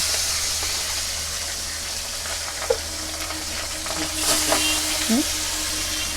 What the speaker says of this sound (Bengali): এবার বাকি যার দুটো মাছ রয়েছে সেই দুটো মাছকেও এইভাবে ভেজে নেব।